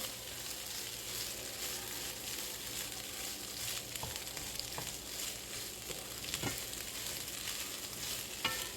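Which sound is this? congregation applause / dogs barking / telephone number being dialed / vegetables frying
vegetables frying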